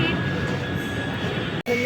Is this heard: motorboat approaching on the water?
no